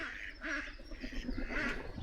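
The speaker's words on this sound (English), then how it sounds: "Good Lord, duck fight." Ducks fighting on Fishpond Lake at a campsite in Jenkins, West Virginia: harsh, overlapping quacks and squabbling calls in a steady, noisy outdoor scene, fairly close.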